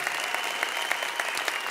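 Conference audience clapping steadily, a dense wash of many hands at moderate volume with scattered sharper claps, no voices over it.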